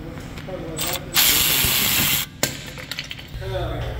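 A power tool, likely an impact wrench, spins out a 17mm caliper bracket bolt on the rear brake of a 2016-or-newer Jeep Compass, giving a loud hissing whir of about a second, close by amid clanks and shop noise.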